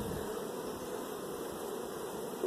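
A honeybee colony in a hive box, inspected during a summer split, gives off a steady, dense buzz that holds evenly throughout with no talking.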